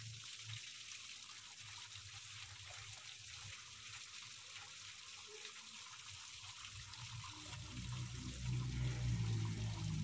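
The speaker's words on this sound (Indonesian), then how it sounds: "Nah, kita buang, kita bilas. Nah, biar bersih airnya." Water runs and splashes steadily as a fish pond filter is rinsed, a continuous close trickling wash that grows somewhat louder and heavier toward the end.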